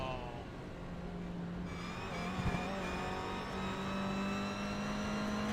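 Race car engine in a racing game during a 23-hour charity race at Zolder, a steady high droning whine that shifts pitch with gear changes and revs, plus a brief thump midway.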